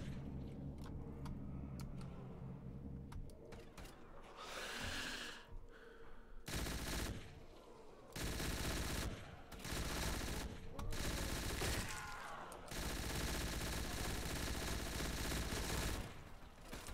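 Machine gun fire in the video game Rust, loud sustained bursts of rapid automatic shots broken by short pauses, close and dominant, with a few quieter clicks and shuffles at the start before the firing takes over.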